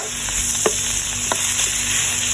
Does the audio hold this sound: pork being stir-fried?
yes